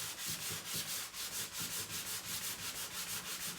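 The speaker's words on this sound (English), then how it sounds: "what I'm doing here is some final coat sanding" Hand sanding of a final drywall coat makes rhythmic back-and-forth scraping strokes at a quick, even pace, close and moderately quiet, with no talking.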